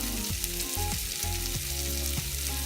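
Dense, steady sizzle of garlic-buttered bread and cheese grilling on a griddle, heard up close with a low hum from the cooker beneath it.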